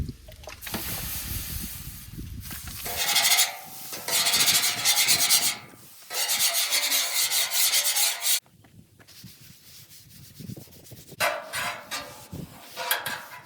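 Oil being rubbed onto a Blackstone griddle, with bursts of dry, raspy rubbing and wiping separated by brief pauses, close and moderately loud, with no talk.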